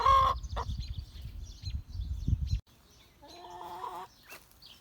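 Hens give low, grumbling clucks and a few sharper calls close by, with shuffling and rustling noise in between.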